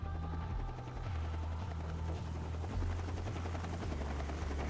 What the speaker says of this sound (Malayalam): ഹെലികോപ്റ്റർ കയറി നമുക്ക് പോവാം.